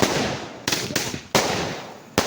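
Diwali firecrackers burst close by in a series of sharp, loud cracks, four main blasts over a couple of seconds with crackling decay between them.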